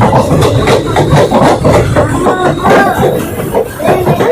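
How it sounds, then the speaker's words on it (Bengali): Passenger train 53056 rolling into Azimganj Junction onto platform 1, with a loud, close rumble, rhythmic clatter of wheels over rail joints and a heavy low drone that continues throughout. "তাই আমাদের ট্রেন এখন ঢুকছে আজিমগঞ্জ জংশন।"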